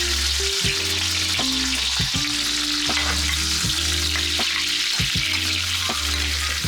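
Butter and sage leaves sizzle steadily in an oiled pan, a constant crackling fry heard up close. Soft background music plays throughout.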